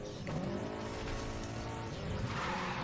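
Audi Quattro tires skid and squeal in Need for Speed The Run during a mountain race, a steady sustained screech over engine noise lasting throughout.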